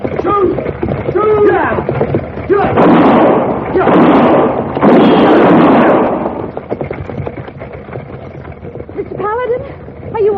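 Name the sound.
gunshots in a western TV show shootout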